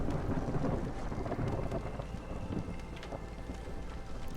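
A video game thunderstorm plays as steady rain hiss with low, continuous rumbling of thunder and some wind, moderately loud and even throughout with no distinct crack; no talking.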